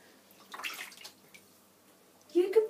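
Water splashes and sloshes in short bursts during a miniature dachshund puppy's first bath, quiet and close, with voices nearby.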